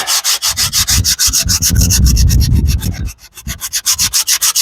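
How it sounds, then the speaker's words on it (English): Steady back-and-forth sanding of a rust repair, close and loud, with rhythmic rasping strokes that pause briefly before resuming. "Just keep sanding."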